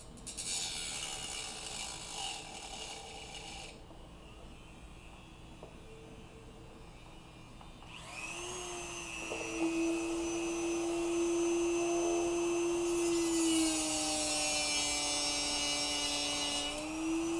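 A rotary power tool whines steadily and closely as notches are cut into Peltor headphone ear cups, rising in pitch as it bites in, with a pause partway through before the grinding resumes.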